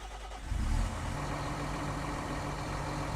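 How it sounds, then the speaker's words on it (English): A small tractor in a Giants Software farming game, fitted with front wings, starts and then idles in a steady, fairly faint low hum with no talk. "It sounds like a normal little tractor."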